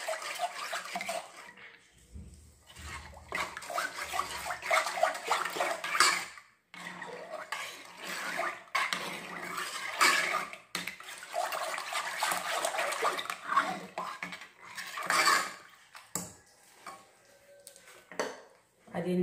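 A spoon stirring milk and bitter cocoa in a pot, with repeated scraping and clinking strokes in irregular bursts separated by short pauses, close and moderately loud.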